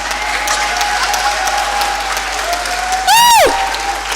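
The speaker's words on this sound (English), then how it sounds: "Let's give her a big round of applause." Steady applause from a summit audience honoring a former Irish head of state receiving an award, a dense even clapping throughout, with a sharp rising and falling whoop near the end.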